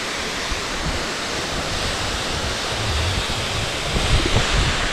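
Steady, dense roar of rushing water at Sipi Falls, Uganda, broadband and continuous, swelling slightly toward the end with a few low rumbles.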